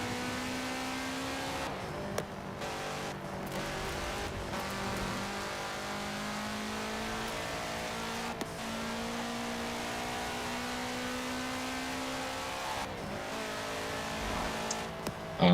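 Car drifting in Forza Horizon 4, with a sustained, droning engine whine that shifts in pitch as the revs rise and fall, steady and fairly close, with occasional brief knocks and tire noise.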